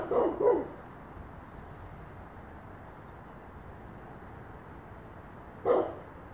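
Security dogs bark twice in quick succession, then after a long quiet pause let out one more bark, fairly close.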